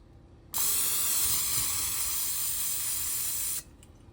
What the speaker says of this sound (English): we'll go ahead and spray our shrimp